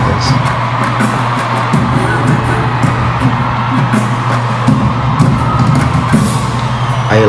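Steady cheering and whooping from a large crowd at a Kuala Lumpur concert, dense and loud throughout, with scattered individual yells over a low humming backing.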